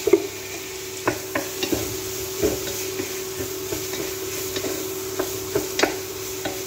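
Marinated meat with garlic and onion being stirred in a pan, with a steady sizzle under repeated scraping knocks of the utensil against the pan, close and fairly loud, no talking.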